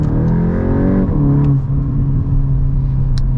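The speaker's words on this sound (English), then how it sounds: "Nice pops and bangs from the back, and corners are also possible." A Volkswagen Golf 8 GTI Edition 45, front-wheel drive with 300 HP, revs loudly up close, its engine note dropping as the throttle lifts, with a few sharp exhaust crackles and pops.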